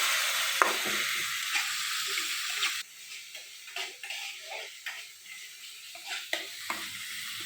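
Ground spices and turmeric stirred with a little water in a pan for egg curry: a soft sizzle that drops off sharply, then irregular close spoon scrapes and taps against the pan.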